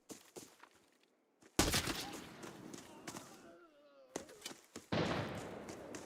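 Grenades detonate in a video game, two loud broadband blasts with rumbling tails a few seconds apart, amid scattered distant gunfire and a voice talking underneath.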